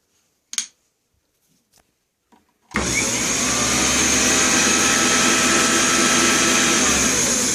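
South Bend Model A 9 metal lathe with back gears disengaged, a few sharp clicks in near silence, then the motor starts abruptly into a loud, steady whirring drone that holds to the end.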